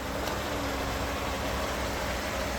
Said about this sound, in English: You can hear the engine idling very smooth and very happily here.